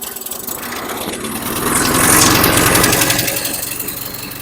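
A 2010 Toro Recycler lawn mower engine with its flywheel rubbing runs loud and close with a rough, gritty rasp, its pitch swelling and rising in the middle before easing back slightly.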